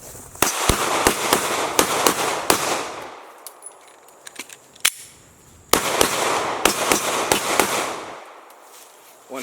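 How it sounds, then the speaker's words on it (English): A 9mm Glock 43 pistol firing outdoors, with two rapid bursts of loud, sharp shots close by, separated by a short pause and a few scattered single shots, each crack trailing a brief echo. "Let's do some more shooting."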